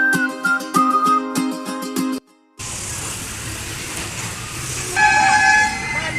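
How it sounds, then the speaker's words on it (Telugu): A toy train at the Chennai Railway Museum sounds loud and close: sustained horn-like toots in the first two seconds, then a steady rumbling run, with more tonal toots near the end. "మీరు వింటున్నారు కదా, అదే టాయ్ ట్రైన్ సౌండ్."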